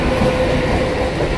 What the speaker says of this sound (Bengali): কিন্তু প্রবল গতিতে ট্রেনটা সামনে থেকে বেরিয়ে গেল